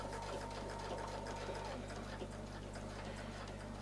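A sewing machine stitches the next line across an 18-inch quilt block of curved circle patterns, its motor running as a steady, even hum from start to finish.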